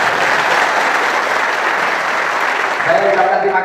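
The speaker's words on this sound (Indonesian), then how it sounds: "Tepuk tangan dong" Applause from a police staff-college audience of officers, broad and steady for about three seconds, with a voice starting to speak as the clapping fades at the end.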